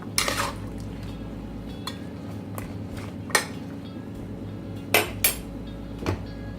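A utensil scraping and clanking against a metal pressure cooker while stirring jackfruit curry, with a few sharp knocks spaced out over a low steady hum.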